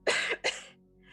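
Two harsh, raspy coughs in quick succession, a person imitating a hacking cough, close and fairly loud, followed by a faint breathy trail.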